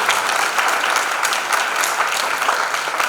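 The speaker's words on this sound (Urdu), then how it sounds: "یسوع کے جلال کے لیے زوردار تالیاں دیں" A congregation at a Christmas church service gives loud, dense applause for Jesus, steady continuous clapping filling the room close up, with no talk over it.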